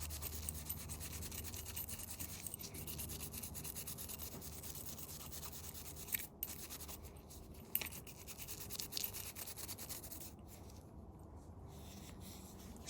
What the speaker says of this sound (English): if there is a bit of corrosion on them, you can use a bit of sanding paper